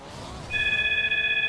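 A telephone rings with a bright, steady electronic tone that starts partway in and sounds loudly and continuously to the end, over faint background noise during a Rocket League live stream.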